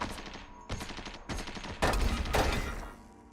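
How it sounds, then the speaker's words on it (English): Chain turrets firing in Caves of Qud, several rapid bursts of automatic gunfire separated by short pauses, growing louder and denser toward the end before fading out. "Chain turrets, I hate them."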